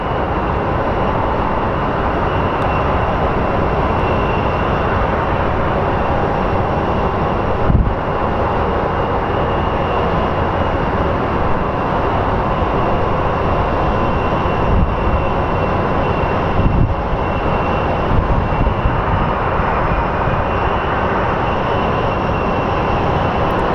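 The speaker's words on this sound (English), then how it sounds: "737 MAX coming from JFK" A Boeing 737 MAX airliner arriving at Phoenix Sky Harbor airport, a steady broad jet roar heard from a distance, holding level for the whole stretch with a few faint knocks and bumps, and no talk.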